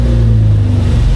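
Pipistrel Taurus motor glider's engine runs loud and steady in flight, a close, continuous droning hum with no voices, just before it is shut down.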